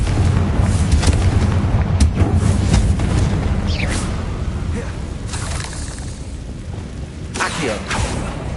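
Confringo fire-blast spell going off in Hogwarts Legacy, a string of loud booming impacts and crackling bursts up close, dense at first and thinning out, with scattered sharp hits later.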